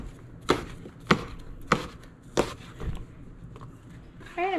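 A kitchen knife chops food in four sharp, evenly spaced strikes, close and distinct, followed by a softer knock before a voice starts speaking at the end.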